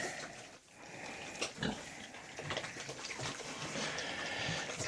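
Vietnamese piglets grunt and snuffle close by in irregular, overlapping bursts, with some soft rustling and splashy noise between the grunts.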